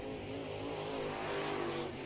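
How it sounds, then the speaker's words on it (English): A dirt late model race car runs at Golden Isles Speedway during a Lucas Oil Late Model Dirt Series event, with a steady, fairly faint engine roar that holds for about two seconds with no talk. "As the final car comes across."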